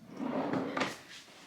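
A drawer in a Disney Polynesian Resort hotel room slides open or shut with a brief wooden rumble and scrape, heard close and alone.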